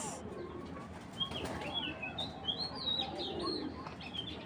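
A large racer pigeon coos and chirps faintly nearby, with a few soft wing flaps and rustles over a steady background hiss. No one speaks.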